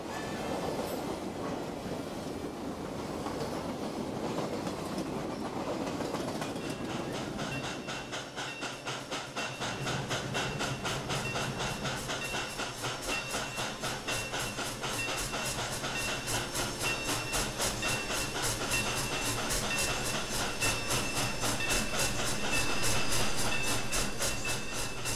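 The 20th Century Limited train rolling into its Chicago station on the rails, with a steady rumble and fast clickety-clack that grows denser and louder. Hissing rises toward the end.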